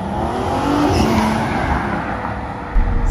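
A Bentley Bentayga W12 luxury SUV accelerates with a steady, loud, broad engine and road roar that holds level throughout, close by, with no talk over it.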